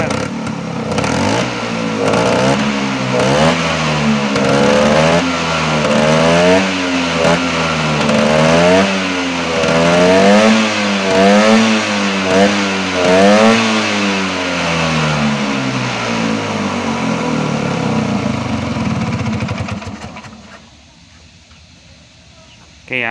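A Vespa scooter engine, just fitted with new contact-breaker points, revs up and down repeatedly in rising and falling waves, loud and close, before dropping away near the end.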